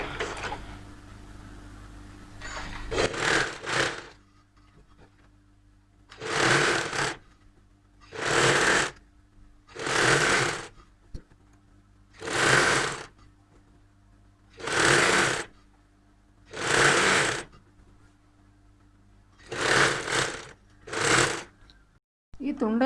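A sewing machine stitches a saree blouse in about eight separate runs of rapid whirring, each lasting one to two seconds with short pauses between. A voice is heard briefly near the start.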